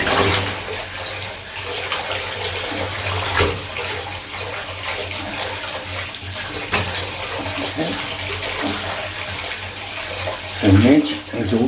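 Hot water runs from a tap over a mermaid doll's jewelled hair, a steady loud splashing stream throughout with a few brief knocks and a short burst of voice near the end.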